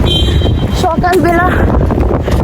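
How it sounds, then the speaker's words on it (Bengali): Strong wind blows steadily outdoors, a constant rushing buffet across the microphone, with a voice speaking over it for part of the time. "চারিদিকে অনেক বাতাস হচ্ছে।"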